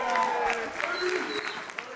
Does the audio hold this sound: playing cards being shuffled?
no